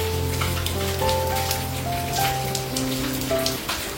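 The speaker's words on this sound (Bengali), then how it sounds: "ঝমঝম করে বৃষ্টি হচ্ছে" Heavy rain pours steadily on surfaces, a dense continuous patter with tonal hum and faint 'Hari bol' chanting underneath.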